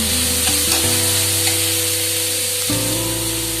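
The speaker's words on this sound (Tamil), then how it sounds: "இந்த கேப்சிகமும் ரொம்ப வதங்கக்கூடாது, லைட்டா வதங்கினா போதும்." Green capsicum sautés lightly in a pan, giving a loud, continuous frying sizzle with a steady hum beneath and a few brief stirring scrapes.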